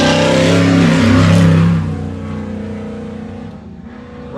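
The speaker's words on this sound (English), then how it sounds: "Right behind him should be Brett Burton in the Trent Fab car. Coming across" A Trent Fab off-road race car in the 2022 High Desert 100 desert race roars past with loud revving engine, strongest early then fading as it moves away, while a commentator talks over it.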